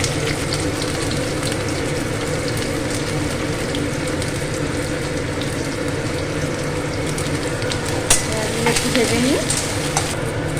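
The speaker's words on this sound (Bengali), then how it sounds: "আদা লঙ্কাগুলো ভাজা হয়ে গেছে দিয়ে দেবো পেঁয়াজ" Steady, dense sizzling of onions frying in a hot pan after green chillies and ginger, with occasional scraping stirs near the end.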